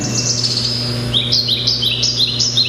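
Birds at a safari park give a series of high, clear chirps and tweets, loud and close, in quick repeated notes over a faint steady hum, with no talking.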